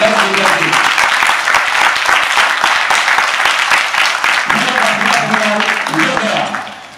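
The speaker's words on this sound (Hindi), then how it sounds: "आपकी जो तालियां बजेगी उन किसान भाइयों को श्रद्धांजलि होगी" Audience at a felicitation event for cancer patient students clapping loudly and steadily for several seconds, with a few voices mixed in before the applause tapers off at the end.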